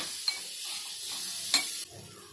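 Tomatoes hit a hot pan of frying spices with Kashmiri red chilli for a cabbage vadi gravy, giving a steady close sizzle with a few sharp stirring clicks and a brief louder hiss that drops away near the end.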